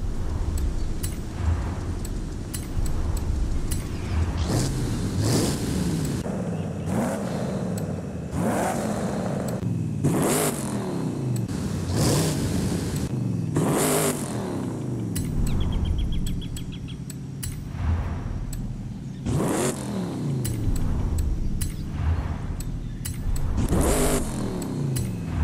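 A diesel Ford Bronco convertible engine revs in Forza Horizon 5, a steady deep drone rising in repeated surges and bursts, loud and close for the whole stretch with no talking.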